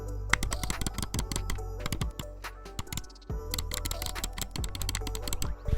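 Rapid, crisp clicks of a gaming mouse's light, tactile Kailh Red 4.0 switches in quick irregular bursts, close and sharp, with a low steady hum underneath and no speech.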